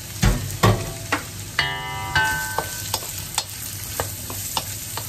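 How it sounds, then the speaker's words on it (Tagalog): Chopped carrot cubes sautéing in a pan for pork giniling with oyster sauce, with an even sizzle under repeated spatula scrapes and clinks, close and clear. "susutin natin dito yung ating carrots muna"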